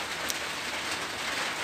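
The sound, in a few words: heavy rain pattering on the roof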